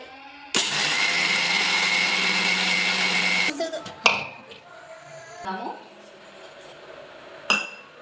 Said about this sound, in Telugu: మిక్సీ పట్టుకుంటున్నానండి